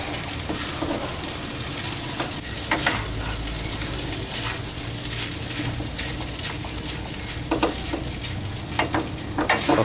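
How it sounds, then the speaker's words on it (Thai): Shrimp fried rice with spring onions is stir-fried in a hot pan, a continuous close sizzle broken by repeated scraping and tossing of the spatula throughout. "จะผัดใช้เวลาอีกสักแป๊บนึงให้เม็ดข้าวเขาร่วนนิดนึงนะฮะ"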